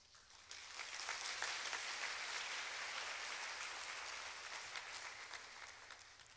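Sustained applause from a concert hall audience at an acoustic live show in Yokohama's Kannai Hall, a dense, even wash of many hands clapping that swells in quickly and holds steady before starting to thin.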